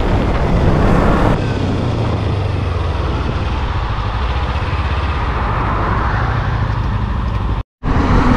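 Yamaha R3 and Kawasaki Ninja 300 motorcycles in a drag race, heard as a loud, steady roar of engines and wind that carries on without a break until a brief dropout near the end.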